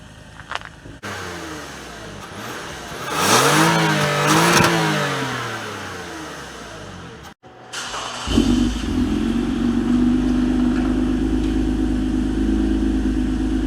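A 2019 Toyota Camry XSE V6 with a full stainless steel Magnaflow exhaust revs loudly up and down several times nearby, then after a brief cut settles into a steady, deep rumble.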